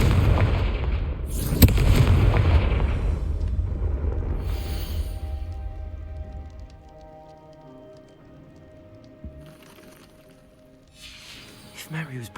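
The Confringo fire spell in the PS5 game Hogwarts Legacy bursts with a heavy, booming blast and crackling rumble that fades over several seconds, followed by quieter crackles and a few faint later impacts.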